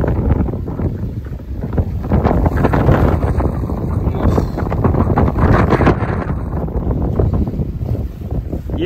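Strong wind roars across a sailboat's microphone while big waves crash and wash along the hull off the Panama coast, a dense, continuous, loud rush with no speech.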